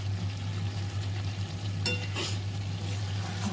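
Goat meat is stir-fried in a pan for kalia with a continuous low sizzle and a couple of brief scraping stirs, close up, steady throughout with a low hum behind and no talking.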